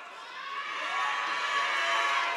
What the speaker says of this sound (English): This crowd explodes at Old Bridge